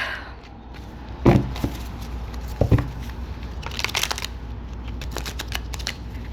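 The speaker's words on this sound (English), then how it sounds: "I am going to do one more shuffle." Playing cards are shuffled in several crisp, rustling bursts, with riffles and soft taps separated by short quiet gaps.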